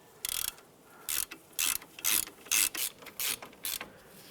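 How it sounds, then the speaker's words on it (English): Ratchet snugging caliper bolts on a 2001-2005 Honda Civic during a front brake job, about eight short, sharp clicking bursts in a quick, uneven rhythm, close and alone. "we'll snug those down with our ratchet"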